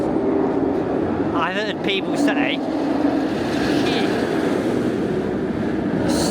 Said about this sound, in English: And you can hear that loud B&M roar in the background.